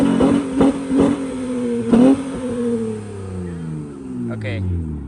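An Acura TL's exhaust revs in a few quick blips, then rises and falls in longer sweeps, loud and close, with people talking over the engine.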